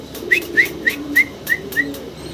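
A pair of large fancy magpie pigeons gives about six short, bright chirping calls in an even rhythm over a soft, low background murmur.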